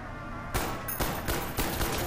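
Gunfire from Black Ops 1 Zombies, four sharp, loud shots spaced about half a second apart, each with a short ringing tail, with no talk over them.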